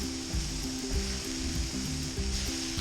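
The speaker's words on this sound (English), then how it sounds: "They are getting a nice sizzle." Steady, loud sizzling of scallops frying on a hot Weber Q griddle, a continuous crackling hiss with a low hum underneath.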